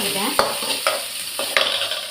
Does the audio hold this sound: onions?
yes